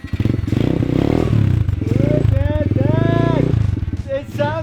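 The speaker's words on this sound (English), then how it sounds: "It sounds like a 125 dirt bike." A Yamaha dirt bike running on a swapped-in cheap Temu engine, buzzing and revving loudly up close like a small 125 two-stroke, with rising and falling pitch sweeps, clattering mechanical noise and voices over it.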